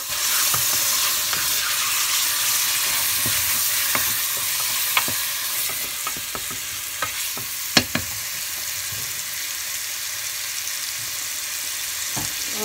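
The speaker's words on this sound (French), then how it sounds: "nous allons laisser mijoter un petit peu" Moroccan couscous stew seasoned with paprika, simmering in a pot: a continuous bubbling sizzle and hiss with scattered sharp pops and ticks, near and steady, with no voices.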